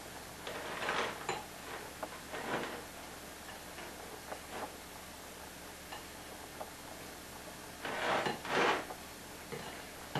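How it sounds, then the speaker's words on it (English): A utensil stirs and scrapes brown sugar around a greased pie plate, making soft irregular ticking and scraping with louder bursts near the start and toward the end, with no voices. "we're just going to stir it all around, mix it all up nice, and distribute it evenly in the bottom of the pan"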